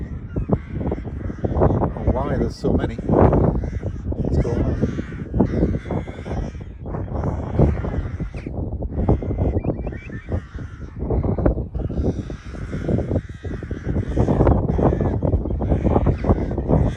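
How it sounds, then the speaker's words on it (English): A flock of crows caws repeatedly in the background while people talk over them throughout. "that's a murder of crows"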